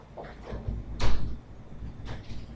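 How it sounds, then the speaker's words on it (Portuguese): A door being pulled shut indoors, a sliding scrape building to a heavy thud near the middle, followed by lighter rattles, close and fairly loud. "Deixa eu só fechar essa porta aqui, tá?"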